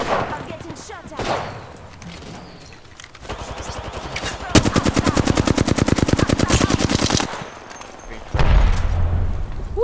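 Rapid SMG bursts from a battle royale video game rattle loudly and close, with a long sustained spray of fire following shorter volleys and game effects.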